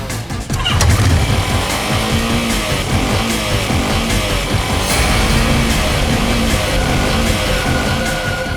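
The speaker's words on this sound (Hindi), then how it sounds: "बाइक खुद बोल रही है, ये वही बाइक थी" An engine revs and roars up close and continuously, with rising and falling pitch sweeps like a motorbike being throttled hard. No one speaks over it.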